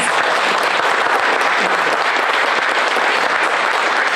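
Audience applause at a speedway press conference for the Little 500 race, a short burst of many people clapping steadily at even volume with no speech over it.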